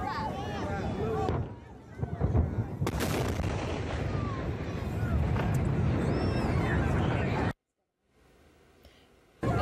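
Antares rocket exploding on launch, heard from among onlookers as a long loud rumbling roar with crackling blasts and crowd voices, cutting to near silence before a brief return.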